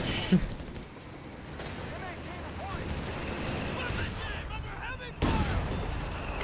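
Explosions and gunfire from a World War II battle in the strategy game Company of Heroes 3, dense rolling blasts and sharp shots layered continuously with one loud burst near the end.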